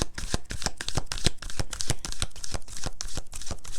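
A deck of Wisdom of the Oracle cards is shuffled close up in a quick, uneven run of papery riffles and slaps, with no speech.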